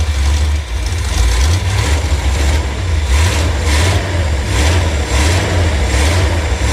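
Hot rod car engine running on choke, a close, loud steady rumble with a pulsing low throb that rises and falls slightly throughout.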